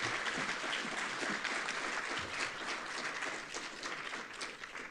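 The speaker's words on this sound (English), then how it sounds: "Sarah, another round of applause." Sustained audience applause at a library technology conference, a dense, steady wash of many hands clapping at even volume throughout, thinning only slightly near the end with no talk over it.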